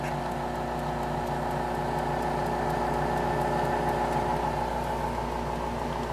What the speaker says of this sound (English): then it switches and starts driving the tape reel to record.